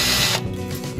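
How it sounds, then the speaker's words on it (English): A power drill works an aluminum front panel on a Baja Bug, first a dense whirring bite into the metal, then it spins down into a lighter mechanical ratcheting rattle as the pressure eases. "Now I'm going to take the drill off"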